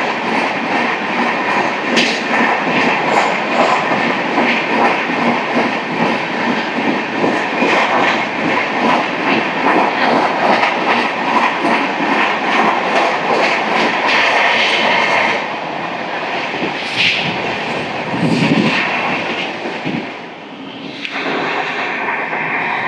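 Samata Superfast Express 12807 from Visakhapatnam, running at about 130 km/h past stations toward Rayagada, heard from on board as a loud continuous rumble with rhythmic clickety-clack of wheels over rail joints, easing slightly near the end.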